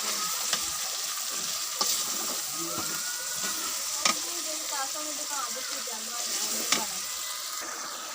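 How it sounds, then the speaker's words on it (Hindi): Chana masala gravy is stirred in a sizzling pan, a continuous frying hiss broken by regular spoon scrapes and taps against the metal, with faint voice underneath. "इसको अच्छी तरह से मिक्स कर लेंगे ग्रेवी बनाने के लिए ना"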